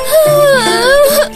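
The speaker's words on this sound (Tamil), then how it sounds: "அது குழந்தையோட சத்தம் மாதிரி இருக்கு." An animated baby cries in a wavering, whimpering wail that rises and falls over about a second, loud and close, with a cartoon setting.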